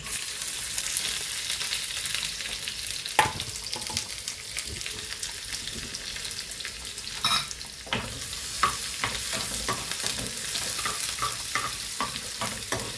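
Ingredients for a Kerala green gram and coconut milk curry frying in a pan, a constant close sizzle broken by scattered scraping stirs and a few sharper clinks, with no talk.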